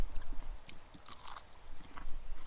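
Someone bites into cutthroat trout breaded in crushed salt and vinegar chips, and close, crisp crunching comes in a steady chewing rhythm with nobody talking.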